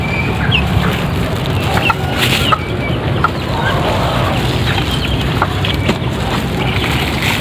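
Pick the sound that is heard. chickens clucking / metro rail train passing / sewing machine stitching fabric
chickens clucking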